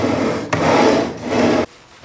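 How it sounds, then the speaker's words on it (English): Sliding compound miter saw with its handle pulled back along the rails, producing two close rubbing, scraping slides with a short click between them, ending abruptly in near silence. "pull that handle back towards you. Yeah, that's a sliding compound miter saw"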